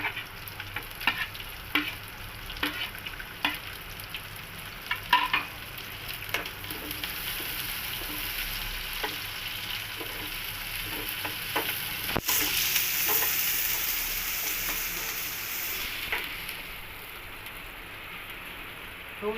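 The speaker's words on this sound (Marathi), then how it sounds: "आता आपण यावर कांदा घालूया" Onion frying in a garlic tempering with cumin, mustard seeds and chilli hisses steadily in the pan, with scattered crackles and stirring clicks early on, then a stronger, fuller sizzle after the onion goes in.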